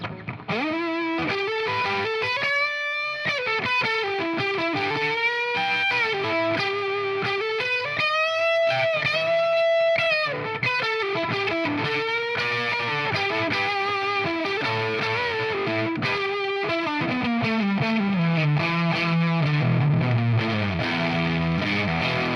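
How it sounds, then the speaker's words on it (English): Electric guitar played through the Fender Tone Master Pro's Round Fuzz Silicon preset gives a thick, saturated fuzz tone: sustained bent notes and melodic runs, loud and continuous throughout, with no talking. "Now let's try the round fuzz silicon."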